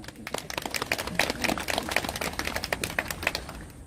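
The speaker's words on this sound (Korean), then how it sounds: "우리 교수님 나오실 때 우리 박수하겠습니다" Applause from a church congregation at a national prayer meeting, welcoming an emeritus professor to the front: dense, steady clapping from many hands, fairly close and continuous throughout.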